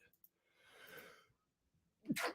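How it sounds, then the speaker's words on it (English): A single person sneezes once, close to the mic: a soft breathy intake builds first, then a sharp, loud burst near the end in an otherwise quiet room. "Had to sneeze real quick."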